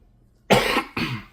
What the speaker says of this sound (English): I don't have a fever, but I have a cough.